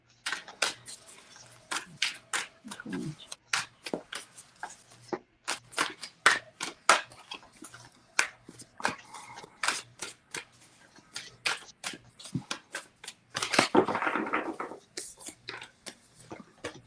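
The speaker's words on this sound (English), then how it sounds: "Sound like you were rolling dice there for a second." Playing or tarot cards are shuffled during a spirit-message reading, giving a string of sharp, dice-like clicks and rattles in uneven bursts, close and fairly soft, with a longer riffling rush near the end.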